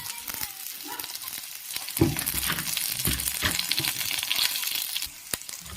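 Curry leaves drop into hot oil with onions already fried light red, for spicy semolina upma, bursting into a loud, close crackling sizzle that keeps hissing steadily afterward.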